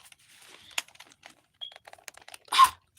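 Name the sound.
typing on a computer keyboard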